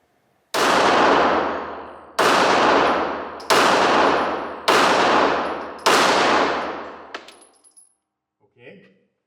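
Five sharp, loud gunshots from a Sig Sauer P365 XL 9mm pistol, spaced about a second apart, each with a ringing decay, followed by faint clinks of brass or handling noise.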